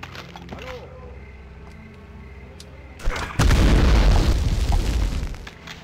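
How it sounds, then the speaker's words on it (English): A loud explosion bursts out in the video game Medal of Honor, a sudden sharp boom followed by a dense roaring rumble that holds for about two seconds before dropping away, after a quieter stretch of game ambience. "He exploded."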